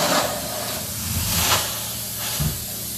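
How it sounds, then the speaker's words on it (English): Steam hisses steadily from a carpet cleaning steam machine's hot hose, a loud, close, broadband spray that swells slightly in places without any voices. "Now you got your steam."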